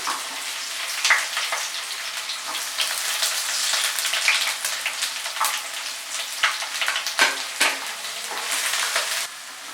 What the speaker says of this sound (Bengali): পেঁয়াজটাকে খুব ভালো করে ফ্রাই করে নেব